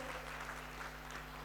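Brief, faint audience applause welcoming a minister at the inaugural session of the ICMCP 2025 conference in a Hyderabad hotel hall, an even patter of clapping over a steady low hum.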